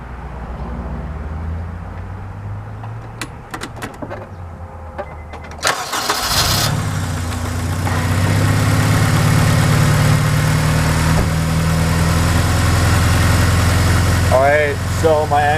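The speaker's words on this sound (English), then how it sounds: "Let's go ahead and start her up" A car engine cranks and catches, then settles into a steady idle, heard up close while a voice talks over it; the car is being checked for an oil smell and crankcase pressure leaking from gaskets.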